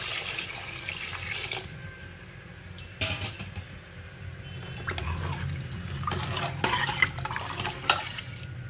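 Water poured from a vessel into a cooking pot of Bengali moong dal, a steady splashing, trickling pour close by with occasional clinks of the pot, no speech.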